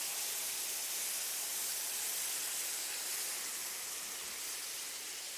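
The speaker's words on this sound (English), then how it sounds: "After a few minutes, add your lemon juice, which will give it a nice little bit of steaming as well." Lemon juice steams and sizzles on grilled asparagus in a cookery school kitchen, a steady broad hiss that holds at an even loudness for several seconds without speech.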